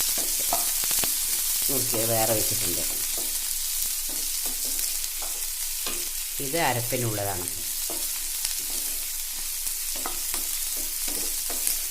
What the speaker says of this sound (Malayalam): ഇനി നമുക്ക് സവോള ചേർത്ത് കൊടുക്കാം.